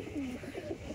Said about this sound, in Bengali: দেখুন কেমন বলছে, এই দেখুন কাগজি পায়রা।